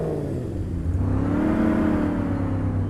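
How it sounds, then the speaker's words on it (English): A truck engine in the off-road driving game Spintires starts up and settles into a steady, loud low rumble with a rising whir, heard on its own. "Go ahead and start our engine."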